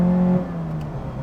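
A car engine holds a steady, deep drone that drops slightly in pitch, close and loud, with no voices.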